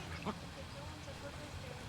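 Ducks on a garden pond in Shiraz, Iran, make a faint quack or two early on under soft background murmur and voices, with people talking nearby.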